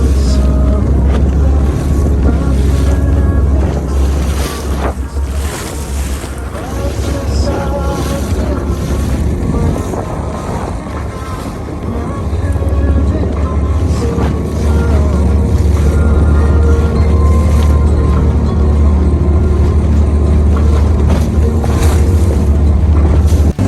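Boat ride on Attabad Lake in Hunza: a loud, steady engine rumble with rushing water and heavy wind buffeting the microphone, a brief lull midway, and faint voices now and then.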